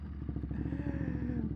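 A motorcycle engine revs up in first gear, its steady drone climbing in pitch as it accelerates, loud and close, with a light mechanical clatter and no talking.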